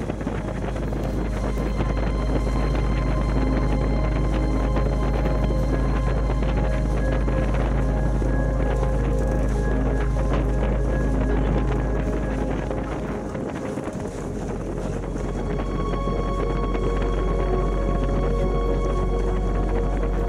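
A sailboat racing upwind in strong wind, with a loud, steady roar of wind buffeting the microphone and a constant rush of water along the hull. The sound stays close and continuous throughout, and nobody speaks.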